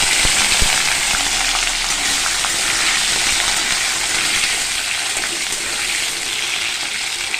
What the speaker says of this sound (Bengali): আলুগুলো একটু লাল করে ভেজে নেবো